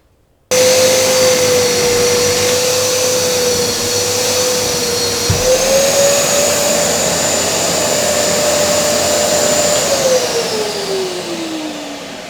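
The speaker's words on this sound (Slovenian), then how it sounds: "na to bomo samo še enkrat sesalcem spravili in fleka nav" A loud, steady wet vacuum cleaner with a water filter whines continuously under a rushing airflow hiss, its pitch rising slightly midway and dropping toward the end, with no talking.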